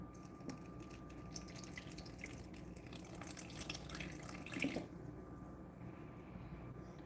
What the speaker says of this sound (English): I'm only going to pour enough to give like 1/4 of an inch of water in the whole pan.